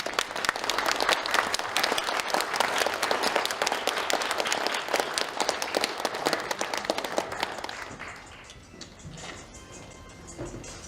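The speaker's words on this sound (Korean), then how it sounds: "여러분 박수로 좀." Applause from a seminar audience, dense and sustained at close range for several seconds before thinning out and fading near the end.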